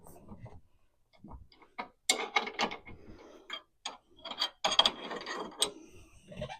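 Wrench ratcheting during a shockwave airbag install on a Crown Vic, close bursts of rapid clicks separated by short pauses, with a brief murmur of voice near the start.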